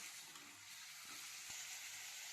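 Chicken pieces for a village-style curry fry on a high gas flame, giving off a steady, close sizzle with a couple of brief knocks from stirring.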